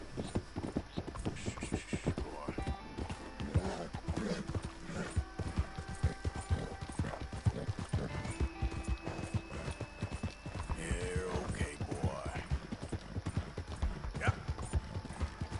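In Red Dead Redemption 2, steady clip-clopping horse hooves keep a constant walking rhythm, with a brief whinny, while a voice talks over them.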